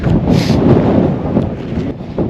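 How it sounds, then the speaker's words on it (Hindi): Strong wind roars steadily across the microphone high in mountain terrain in Poland, a loud continuous rumbling gust with no voices. "बहुत तेज हवा चल रही है।"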